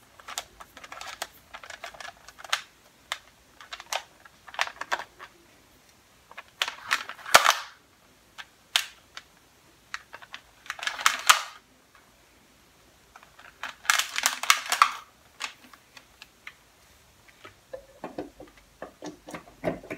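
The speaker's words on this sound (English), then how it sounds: "Mix the butter and the sugars together first." Butter and sugars being mixed for chocolate chip cookie dough, heard as bursts of rapid clicking and scraping strokes in a bowl, separated by short pauses, close and fairly loud.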